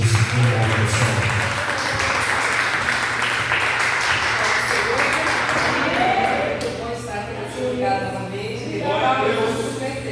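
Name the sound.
congregation applauding in church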